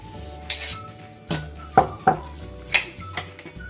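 A spoon clinks against a metal bowl while green and tamarind chutneys are mixed into papri chana chaat, giving a series of sharp, close taps and scrapes spaced irregularly over soft stirring.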